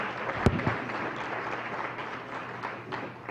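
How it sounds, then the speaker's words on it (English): Audience applause after a presenter at a community wealth-building event in Northeast Ohio, a steady room-filling patter of clapping that holds evenly for a few seconds with no voices over it. "If we could give Kevin another round of applause."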